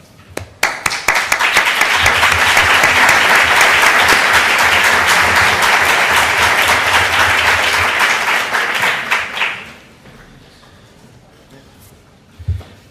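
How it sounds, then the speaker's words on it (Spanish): An audience at an education conference opening session bursts into applause, a few scattered claps swelling into a loud, sustained ovation that fades out after about ten seconds into near quiet with a faint stray sound. "creo que le debemos un merecido aplauso"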